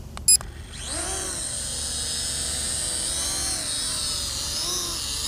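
A Helifar H1 toy FPV drone spinning up its propellers for an automatic takeoff outdoors: after a brief click, a high, steady whine rises and holds, wavering in pitch as it lifts off, loud and close with no talking.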